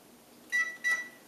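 Two short electronic beeps from an oven timer being set, clear and close against a quiet room, with a brief pause between them.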